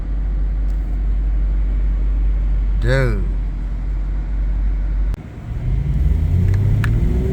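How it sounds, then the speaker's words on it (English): A new Aston Martin Vantage sports car roars past nearby, its engine rising into a loud rumble toward the end, while someone speaks briefly. "I think this is the new Aston Martin, man."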